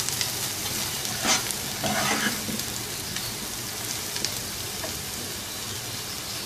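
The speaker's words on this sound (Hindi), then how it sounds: "ये देखें, अनियंस लाइट गोल्डन फ्राई हो गए।" Chopped onions frying to a light golden color in a pan for egg khagina (anda bhurji), giving a steady broadband sizzle with a few brief stirring scrapes and no talk.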